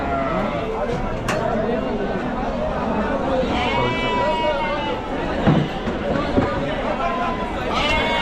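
Sheep bleat repeatedly over a busy, chattering crowd, their calls overlapping near and far in a large open goat and sheep market in Chakan, Maharashtra.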